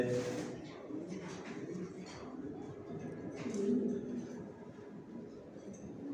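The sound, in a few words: racing pigeons cooing in a loft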